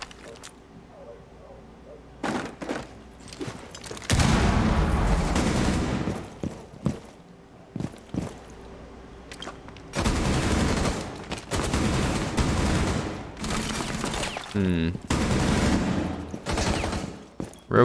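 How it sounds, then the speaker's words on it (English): Gunfire bursts and a grenade explosion in the tactical shooter Rainbow Six Siege, loud and repeated in clusters with short quiet gaps between them, while a voice talks over parts of the action. "with that grenade explosion and the shots"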